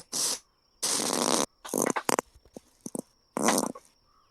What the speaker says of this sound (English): What's that sound? Before we keep It's a fart.